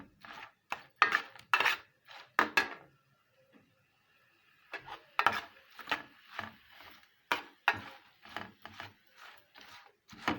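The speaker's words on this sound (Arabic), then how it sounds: "احنا هنفضل نقلب فيه شويه لحد ما لونه يبدا يتغير" Shrimp being stirred in a cooking pot, a spoon scraping and knocking against the pot in quick irregular bursts with short pauses between them, close and fairly loud.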